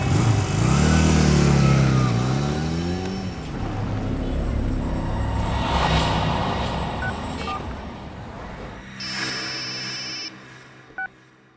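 Motorcycle riding away in an Indian TV crime drama scene, a loud engine revving up close then fading steadily into the distance, ending in quiet with a few faint electronic tones.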